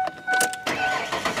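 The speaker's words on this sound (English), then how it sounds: "we're going to try starting it with the other key" A car engine cranks in a few quick bursts and then catches, close and loud, over about a second and a half with no one talking.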